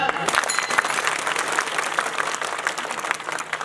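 Audience at a Shiv Jayanti kirtan clapping loudly in a dense, fast wash of applause, with rhythmic cymbal-like accents and some voices mixed in throughout.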